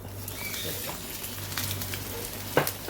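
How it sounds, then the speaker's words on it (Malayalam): Nutella French toast fries gently in ghee over low heat, a soft continuous sizzle and patter with a brief clatter near the end, quiet and close. "ഇതിലൊരു വശം മൊരിഞ്ഞതിന് ശേഷം നമുക്ക് മറിച്ചിടാം."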